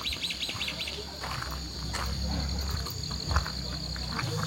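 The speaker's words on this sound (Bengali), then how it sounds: "পাখির গুঞ্জন" Birds chirping in a quiet hill village near Kalimpong, repeated bright tweets and short calls from a few birds over a soft background of insect-like trilling and low hum, fairly faint and nearby.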